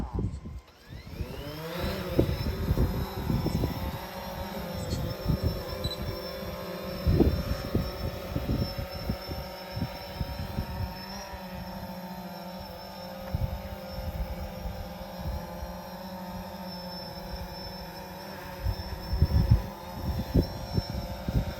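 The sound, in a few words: small aircraft taking off and hovering during a practical demonstration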